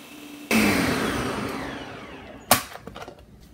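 A blender kicks on sharply and whirs steadily, blending pineapple juice with chia seeds and half a cup of sugar, its motor pitch slowly settling before it cuts off with a clatter and a few trailing knocks.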